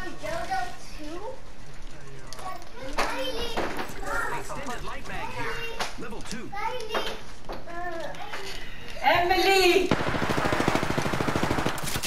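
Rapid automatic gunfire crackles through a shooter match in Apex Legends, with bursts of shots under excited young voices talking over one another and a louder, denser volley near the end.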